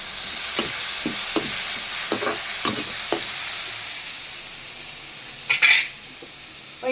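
Madurai-style prawn thokku frying in a pan, a steady close sizzle with a series of sharp spoon scrapes and taps against the metal as it is stirred, the sizzle easing slightly before a few louder clanks.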